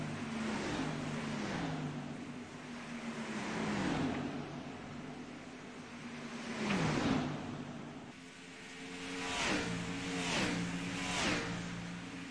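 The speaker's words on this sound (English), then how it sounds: "listen to him work that throttle" Race car engines in iRacing at Texas rise and fall in pitch as the throttle is worked, with repeated revving swells and shifting tones across several laps, fairly loud and steady without talk.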